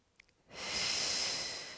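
A single long, breathy exhale during an exercise routine, a close, steady hiss that starts after a brief near-silent pause and slowly fades toward the end.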